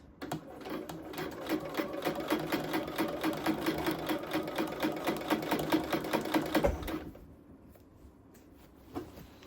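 A sewing machine stitches a blazer sleeve seam through five or six layers of fabric. Its close, rapid needle chatter runs steadily for about seven seconds, then stops, leaving quiet handling noise.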